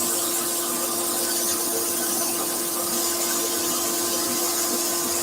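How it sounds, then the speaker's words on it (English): A dust extractor runs steadily during woodturning sanding, a loud, constant whooshing drone with a motor hum and no pauses or talking. "all of that airborne dust is just getting taken away by the extractor."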